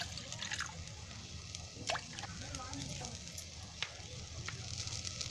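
Chopped cabbage cooks in a covered pan over medium heat, giving a steady soft sizzle with faint drips and crackles, while a voice speaks over it.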